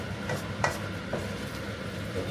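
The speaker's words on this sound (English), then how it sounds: "give this a bit of a stir for a couple of minutes" Spices and vegetables for a vegetable korma get stirred in a pan, with a low steady sizzle beneath a few soft scrapes and light clinks of the spoon against the pan, close by and with no talking.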